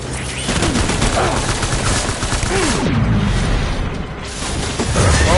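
Heavy gunfire in the video game Death Stranding, a dense, continuous fusillade of rapid automatic bursts and booms filling the whole stretch at close range, with shouting voices mixed underneath.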